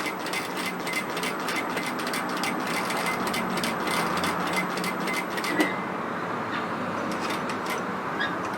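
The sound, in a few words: sewing machine stitching a line in nightgown fabric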